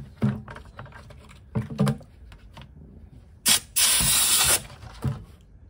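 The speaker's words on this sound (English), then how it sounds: "just blow some air into it. It literally just pops them up from each other." An air compressor ball inflator nozzle gives short hissing bursts of air between stuck buckets, with one longer blast near the end, plus small plastic clicks and knocks in between.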